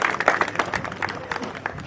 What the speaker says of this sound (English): how about one last round of applause for Alex A.G. Glaze and Andrew Ingram